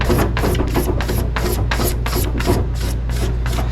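A razor blade scrapes across a run in fresh paint, making a loud, rasping stroke about every third of a second in a steady back-and-forth rhythm, close up and without any talking.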